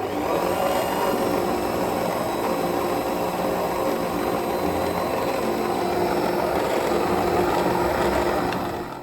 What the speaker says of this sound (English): Mix everything well with a hand whisk or a stand mixer.